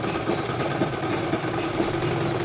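A sewing machine runs a continuous stitch along the folded edge of a boys' night suit, giving a steady, close, mechanical whir with no talking.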